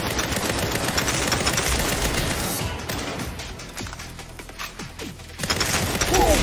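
Sustained machine gun fire from a weapon powered by a backpack in Saints Row, loud rapid bursts that briefly ease off midway and then resume at full intensity.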